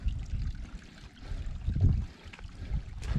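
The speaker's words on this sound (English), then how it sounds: "We'll cross a little creek crossing here." A shallow little mountain creek on a forest hiking trail, water burbling and trickling steadily at low volume with a soft, continuous rush and no talking.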